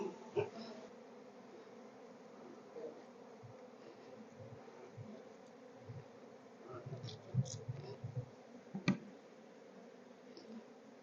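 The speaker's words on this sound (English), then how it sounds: "Shake the bees off." Honey bees hum steadily during a hive inspection of a messy cross-built hive, a continuous close drone with occasional louder buzzes and light knocks.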